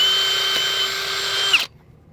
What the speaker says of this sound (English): So I'm gonna drill